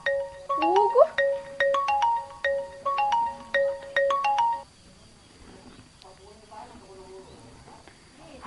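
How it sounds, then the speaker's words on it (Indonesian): A phone ringtone for an incoming call in a rural village home plays a repeated melodic pattern for about four seconds, loud and close, then stops, leaving quiet room sound. "Cik, dek naon nih Mang Deden telepon?"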